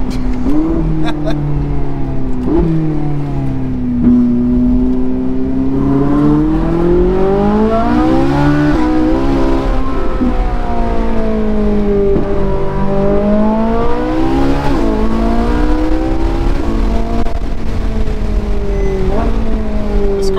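A 2011 Ferrari 458 engine revs and accelerates along a twisty road, its note climbing and falling through repeated gear changes, loud and close from inside the car.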